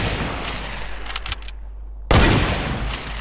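Gunfire in Fortnite crackles in rapid bursts, first a steady stream of shots, then a short gap before a loud, dense volley breaks in near and sharp.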